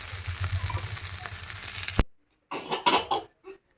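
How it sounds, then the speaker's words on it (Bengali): Pasta with egg, onion and tomato frying in a pan, a soft sizzle with light stirring that cuts off sharply, followed by brief clatters and indistinct sounds. "একটু ভালো করে ভেজে নিচ্ছি"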